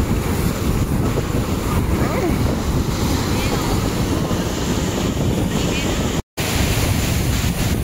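Sea waves wash onto the beach at Puri in a steady, loud roar, heavily mixed with wind buffeting the microphone, with no break apart from one brief dropout.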